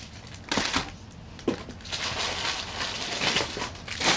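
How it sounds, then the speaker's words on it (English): Rustling and crinkling of shopping bags full of newly bought scrapbook supplies at a scrapbook expo in New Jersey, with irregular crackly bursts handled close up throughout, no talking. "You can tell by all the rustling that it's actually a lot of stuff."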